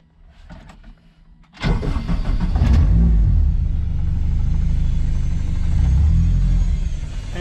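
A Mazda RX7 rotary engine fitted with a DCT gearbox and MaxxECU management starts up. After a few quiet seconds it cranks, catches abruptly and settles into a loud, steady, rumbling idle close by.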